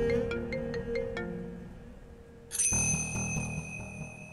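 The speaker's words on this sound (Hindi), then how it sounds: "उस मनहूस का नाम लिया और फोन आ गया" A mobile phone ringing with an incoming call, a bright repeating electronic ringtone that starts partway through and keeps sounding loud and close over a quiet indoor room tone.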